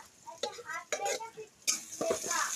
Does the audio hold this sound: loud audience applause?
no